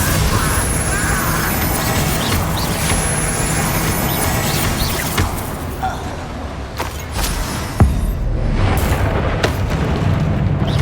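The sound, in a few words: Bombarda and Confringo explosion spells in Hogwarts Legacy video game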